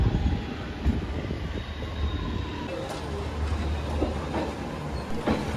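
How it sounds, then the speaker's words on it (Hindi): A train at Lucknow Junction railway station rumbles steadily nearby, with clacking wheels and occasional high metallic squeals over a constant low drone; no talking. "अभी हम आ चुके हैं लखनऊ जंक्शन रेलवे स्टेशन पर।"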